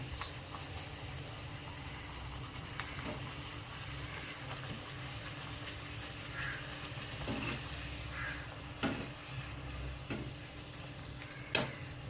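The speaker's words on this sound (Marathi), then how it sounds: "हे मी हाय फ्लेम वरतीच तळते आहे." Pumpkin gharge, sweet Marathi vadas, deep-fry in hot oil over a high flame, giving a soft, steady sizzle with scattered small pops and clicks throughout.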